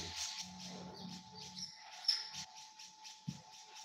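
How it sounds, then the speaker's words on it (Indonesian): Agitated birds inside an aviary call as a young monitor lizard enters, with sparse, faint chirps and tweets scattered over a quiet background and a steady low hum. "teman-teman juga denger ya, burung-burungnya pada ngumpul tuh. Pada ngumpul, pada gelisah gitu ya"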